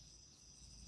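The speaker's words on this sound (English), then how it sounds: "I'm also hearing crickets outside because I'm outside in the Van Gogh room." Crickets chirp outside a garden room in a faint, continuous, high-pitched trill that holds evenly throughout the moment, with no voices over it.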